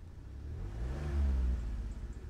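Smart Fortwo Passion Cabriolet engine blipped once, a short close rev that rises, peaks and falls back within a couple of seconds.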